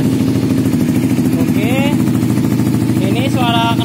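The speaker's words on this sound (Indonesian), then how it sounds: "Ini suara knalpot ini." A motorcycle engine fitted with a perforated carbon exhaust idles with a steady, loud, low drone throughout, while someone talks over it.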